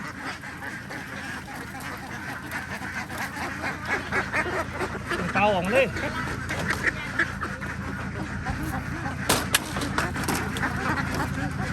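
A noisy flock of laying ducks quacking continuously and loudly, close by, while a voice speaks briefly under the din, during a delivery in Sikhio, Nakhon Ratchasima, Thailand.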